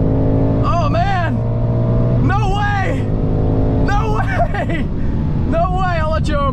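A 2024 Mustang GT races a Stage 1 MK8 GTI, heard as a steady engine drone from inside the car, nearly buried under repeated bursts of loud, excited shouting.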